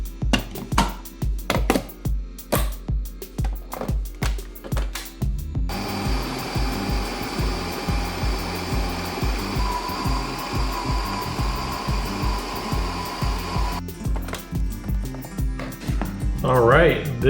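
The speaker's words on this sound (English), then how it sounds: "let's go ahead and put this in the machine and get it going." A Ninja Creami machine churns chili mango ice cream with a steady, loud mechanical whir and a faint high whine lasting about eight seconds, preceded and followed by rhythmic chopping-like clatter.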